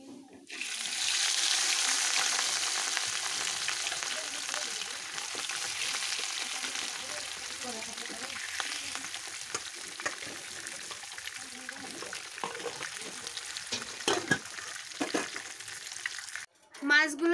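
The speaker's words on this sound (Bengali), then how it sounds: "বাকি মাছগুলো ভেজে নেব।" Pieces of rohu fish fry in hot oil in a pan, a steady, close broadband sizzle running throughout with occasional crackles and clinks, then a brief pause near the end.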